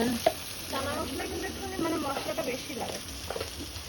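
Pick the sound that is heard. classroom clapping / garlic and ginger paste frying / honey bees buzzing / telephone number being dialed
garlic and ginger paste frying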